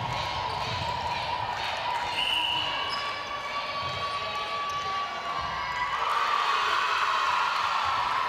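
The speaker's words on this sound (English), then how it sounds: "there we see Sri Lankan supporters cheering every goal as they go" Sri Lankan supporters cheer at a netball match, with crowd noise, shouts and whoops rising and falling at moderate distance over a steady hubbub.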